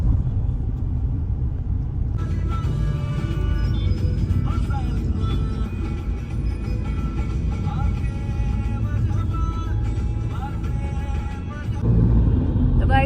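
Steady road rumble from a car driving along Electronic City Road in Bangalore, continuous and fairly loud, with faint horn-like tones and a passing swell of traffic noise in the background.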